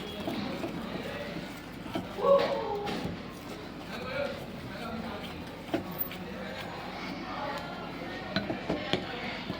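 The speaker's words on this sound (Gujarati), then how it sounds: "આ બધી વસ્તુને હું પહેલાં બરાબર મિક્સ કરી લઈશ" Ingredients for pineapple jalebi, including ghee, being mixed in a bowl, with a utensil clinking and scraping against the sides while someone talks.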